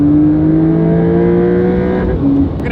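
A Porsche 911 Dakar fitted with a titanium exhaust holds a steady, loud, close engine drone rich in harmonics, easing off and shifting pitch briefly near the end of the short run.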